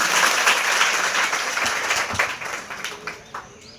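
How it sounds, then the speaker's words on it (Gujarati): Steady applause from an audience welcoming a student speaker at a school event, a dense wash of clapping that gradually thins and fades toward the end with no talking. "જોરદાર તાળીઓ થઈ જાય એમના માટે."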